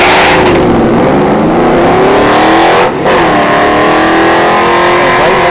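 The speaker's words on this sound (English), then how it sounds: "he's lining up against that fast F-150 Platinum" An Oldsmobile Cutlass and a Ford F-150 Platinum launch side by side at a drag strip, engines roaring loud and close in one sustained, rising blast with a brief dip midway.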